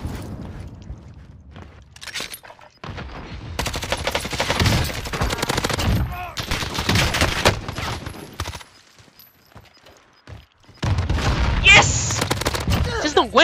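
Video game battle gunfire from an MP5 and a sniper rifle comes in loud bursts and rapid volleys separated by short lulls, with a heavy barrage at the end; players talk over parts of it.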